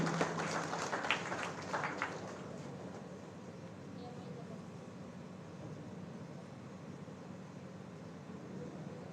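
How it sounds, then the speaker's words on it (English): Applause from a college convocation audience in a hall, a dense wash of clapping that is strongest at the start and settles into a steady, fairly faint patter. "A huge round of applause for Dr."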